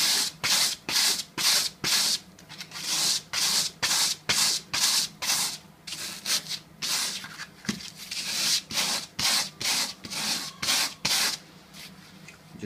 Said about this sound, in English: sanding off all the burnt area.